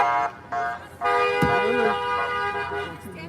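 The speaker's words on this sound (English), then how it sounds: "He can honk." Vehicle horn honking in short loud blasts, with a sustained steady toot sounding after brief gaps, close and prominent, with voices in the background.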